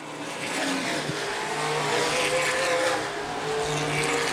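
ABC stock cars race around the Angola Motorsport Speedway in a feature event, engines roaring steadily and densely as the field circulates, a continuous loud wash of motor noise with no voices.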